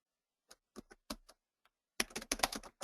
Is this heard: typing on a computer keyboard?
yes